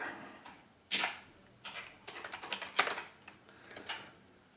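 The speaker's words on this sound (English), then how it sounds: "Now we have to type a password." Someone types a password on a computer keyboard: quiet, close keystrokes in uneven clusters, a few sharper taps standing out, with no one talking.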